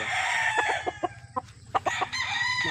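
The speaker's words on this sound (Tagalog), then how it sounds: "Napakagwapong manok." A gamefowl rooster crows nearby, followed by clucking and more fowl calls in short bursts, fairly loud against a quiet background.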